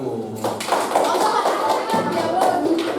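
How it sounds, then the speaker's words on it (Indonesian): Classroom of fifth-grade pupils clapping for a group, a burst of quick, uneven claps close by that carries on under scattered voices. "Tepuk tangan untuk kelompok 1."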